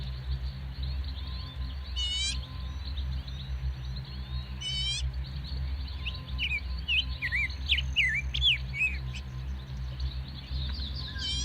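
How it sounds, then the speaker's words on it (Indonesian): Birds chirp and whistle in a calm forest at midday, with repeated short trills and a flurry of bright, quick calls over a steady low background hum, no voices. "burung saling bersiulan"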